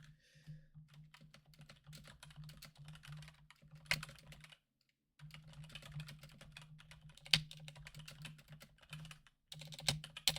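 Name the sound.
typing on a computer keyboard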